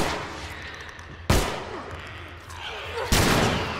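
Two loud rifle shots boom in The Last of Us Remastered inside a tunnel, each followed by a long reverberating decay, spaced a couple of seconds apart.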